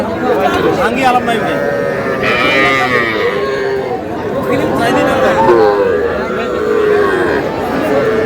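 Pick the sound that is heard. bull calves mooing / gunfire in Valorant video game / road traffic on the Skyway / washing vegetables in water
bull calves mooing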